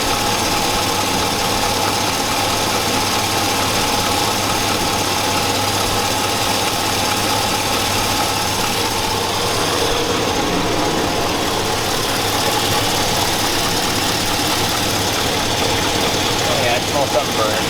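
A 2002 Chevy Avalanche 5.3L V8 idles roughly and loudly underneath, with a running tapping or ticking over a dense steady rumble. Talk is faintly present.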